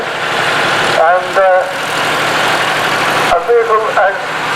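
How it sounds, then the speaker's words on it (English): A vintage 1969 ERF LV truck on its original 4-litre six-cylinder petrol engine, running steadily and loudly nearby as a continuous rumble, with someone talking over it. "still on its original 4-litre petrol engine, 6-cylinder petrol, a very noisy vehicle to drive"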